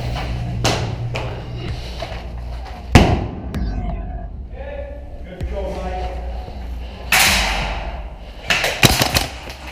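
A Wirepull Flash Grenade 3.0 airsoft grenade detonates with a loud, sharp bang, set among other thumps and clatter from an indoor airsoft building assault, with people talking throughout.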